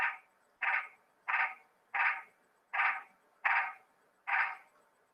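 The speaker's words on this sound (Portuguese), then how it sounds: "Tem um sapo aqui atrás da minha janela." A frog croaks just behind a window, seven evenly spaced calls at a steady rhythm, each one clear and fairly close, with quiet gaps between them.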